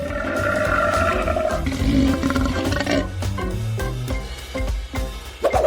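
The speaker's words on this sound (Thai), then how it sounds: "นั่นเป็นเสียงคำรามที่น่าเกรงขามสุดๆเลย" A loud, drawn-out roar rumbles and growls up close, breaking into rough, choppy snarls toward the end.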